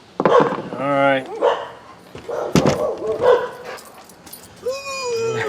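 Dogs bark and yip nearby in short bursts, with a whimper among them, while someone talks over the noise at close range.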